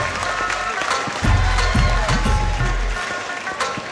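A fight crowd applauds and cheers after a round, a loud dense clatter of clapping mixed with voices and a commentator talking over it.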